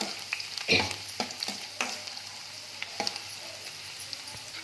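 Crushed garlic fries in a pan for a dry okra stir-fry, with a soft continuous sizzle broken by several sharp scrapes and clinks of a spoon stirring against the pan.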